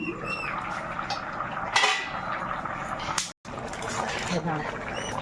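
A metal lid clatters as it is lifted off a pot of simmering pumpkin and Malabar spinach, one brief clink amid a faint bubbling background while someone talks.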